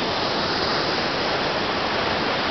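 Triberg waterfall in the Black Forest in winter, with ice around it, pours in a steady, loud, broadband rush that fills the whole moment without a break.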